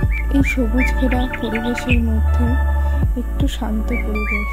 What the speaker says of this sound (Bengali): তার সঙ্গে একটু পাওনা হচ্ছে পাখিদের ডাক।